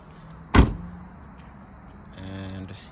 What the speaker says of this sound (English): Let me close the trunk just so you can see.